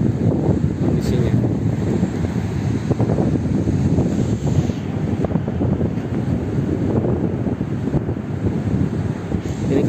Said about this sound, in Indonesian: Anginnya masih kencang lagi ya, masih belum stabil kondisinya.